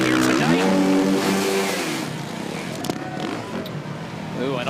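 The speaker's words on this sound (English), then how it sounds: "You could hear him panic revving around" Snow bike engine revving hard during a Best Trick run at the X Games in Aspen, with repeated rising and falling engine tones, loud and close, under an announcer's commentary.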